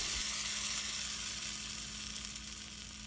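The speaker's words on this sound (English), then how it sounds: "Add tempering into this." Hot tempering oil sizzling as it is poured over mango and coriander chutney, a loud hiss that slowly fades.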